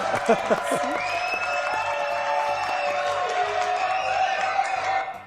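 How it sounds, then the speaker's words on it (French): Audience at a French theatre talk-show event applauding. Clapping and a few cheers fill the room, start strongly, then go on steadily before trailing off at the end. "Alors déjà, applaudissements pour Mama Khan."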